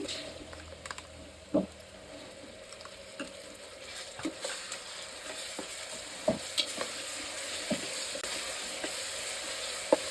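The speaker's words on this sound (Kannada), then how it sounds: "ಇದು ಹಸಿ ವಾಸನೆ ಹೋಗೋ ತನಕ ರೋಸ್ಟ್ ಮಾಡ್ಕೊಳ್ತಾ ಇದ್ದೀನಿ" Homemade ginger garlic paste sizzles and fries in a pan for a Sunday natti-style biryani, a steady crackle with intermittent scraping stirs and small clicks throughout.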